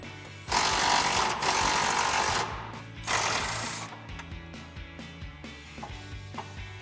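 A 3/8-inch impact gun with a 16mm socket removes shock bolts on a Jeep Wrangler JK, close and loud, firing in two hard bursts followed by lighter clanking of tools and parts.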